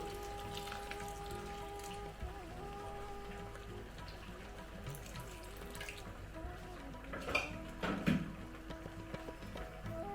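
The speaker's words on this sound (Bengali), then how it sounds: "এটার মধ্যে আমি জল দেব। জলটা কিন্তু আমি গরম করে দিচ্ছি একটু।" Hot water poured into a pot of dal makhani in a kitchen gives a faint, steady trickle and splash, swelling briefly into a louder gush near the end.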